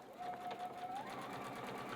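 Domestic sewing machine stitching cotton quilting fabric along a chalk line for flying geese units, a quiet rapid whirring hum with a brief rising whine at the start, running steadily under faint background talk.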